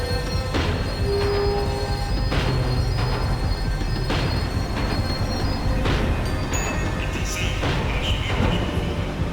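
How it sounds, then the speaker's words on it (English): A tram in the video game Max Payne 3 rumbles and screeches as it slows, with loud continuous rail noise, squealing wheels and repeated metallic clanks throughout. "The tram was slowing down, and I'd only just gotten on board."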